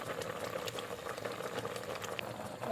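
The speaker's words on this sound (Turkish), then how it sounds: "1-5 dakikada limonla kaynasın." Quince jam with lemon bubbles in a pot, a close, steady burble of thick boiling liquid with small pops throughout.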